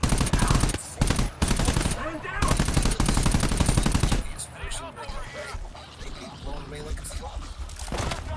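Rapid automatic gunfire in a video game, loud and close, comes in dense bursts with short gaps, then gives way to sparser scattered shots and impacts while voices talk underneath.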